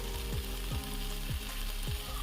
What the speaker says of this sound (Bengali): এবারে আমি আর একটুখানি হতে দেব আর একটুখানি কষবে